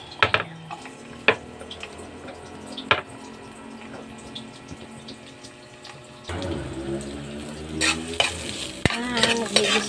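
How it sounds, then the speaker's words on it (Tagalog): Garlic, onion and ginger sautéing in a pan for chicken tinola give a soft sizzle with sharp spoon taps, then a louder, fuller hiss and crackle as stirring picks up near the end. "Gisa ko lang po yung bawang, sibuyas at luya."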